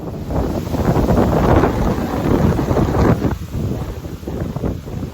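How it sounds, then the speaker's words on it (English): Strong gusting wind roars across an open stretch of the Camino Francés between Palas de Rei and Melide, loud and continuous buffeting with rain likely mixed in, no voices. "Now I personally don't think the wind is strong enough to bring any trees down."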